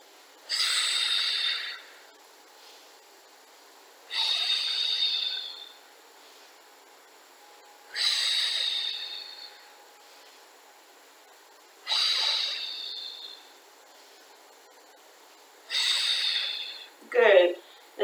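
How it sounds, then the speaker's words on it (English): Five slow, steady breath cycles from a Pilates exercise, each a loud airy rush lasting about two seconds with short pauses between, close to the microphone, ending in a brief sharper gasp. "Inhale. Exhale. Inhale. Exhale."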